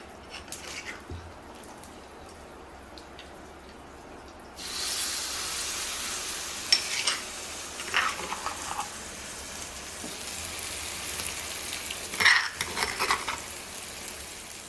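A ladle scrapes and stirs gongura chutney into a fried tempering in a pan, a soft sizzle rising midway with scattered clinks and scrapes of metal, close and fairly quiet, no talking.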